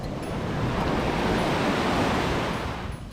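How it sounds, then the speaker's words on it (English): Ocean waves surge onto a remote island shore at high tide, a steady loud rush of surf and churning water filling the scene without break, close by and unaccompanied by voices. "The water rushes onto the shore and then sucks back like a pump."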